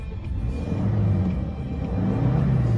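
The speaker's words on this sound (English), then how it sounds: "Give the car a quick rev." A 2016 Toyota Hilux Workmate pickup's low engine rumble swells as the motor is revved briefly, steady and close, with no voices.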